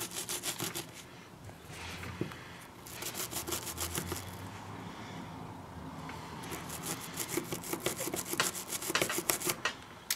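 A tool scraping paint off a plastic miniature, with bursts of rapid rhythmic scratching strokes up close, a calmer rubbing stretch in the middle, then scraping again growing louder toward the end.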